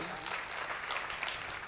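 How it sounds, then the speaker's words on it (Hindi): Crowd at a Hindi kavi sammelan poetry recital gives hearty applause, a dense wash of clapping with a few sharper peaks, steady and moderately distant, with faint voices beneath. "एक बार और जोरदार तालियां।"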